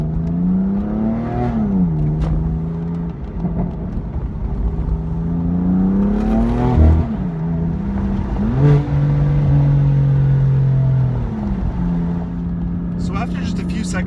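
A tuned BMW M4 engine with over 600 horsepower revs and accelerates through several gear changes, rising and falling in pitch from inside the cabin, with a voice talking briefly.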